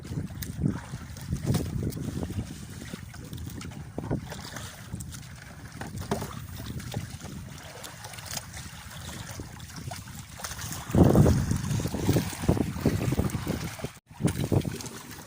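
A small fishing boat running on the water, with a steady low engine rumble, wind buffeting and splashing throughout, surging louder toward the end.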